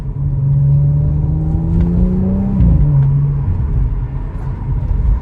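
A 2017 Audi S4 3.0 TFSI Quattro Tiptronic saloon (B9) accelerates with a rising engine note, drops pitch at one quick gearshift and then pulls again, heard close and loud with no talking.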